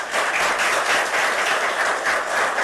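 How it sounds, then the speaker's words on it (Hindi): An audience at a Dehradun institute for visually impaired students claps loudly and steadily in a dense, continuous burst of applause with no talking over it. "जोरदार तालियां"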